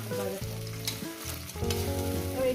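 Masala for a rohu fish curry frying on a medium gas flame, a steady close sizzle with stirring scrapes and a low tonal hum running beneath.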